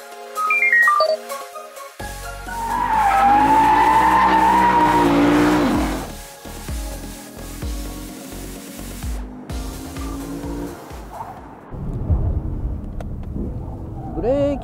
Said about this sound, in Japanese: さあ軍祭以来のレクサス RCF ですけれども、サーキットを走ってみたいと思います。